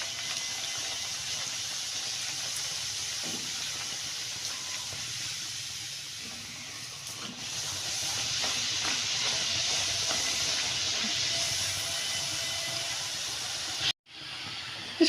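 Radish paratha, stuffed with grated radish and semolina, sizzles as it fries in a pan while being pressed down. A steady, fairly loud hiss runs throughout, and it cuts out briefly near the end. No one speaks.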